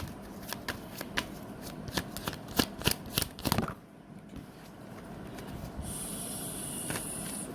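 Tarot cards being shuffled up close, a rapid run of crisp papery riffles and flicks for several seconds, then a brief quiet pause followed by a faint steady hiss.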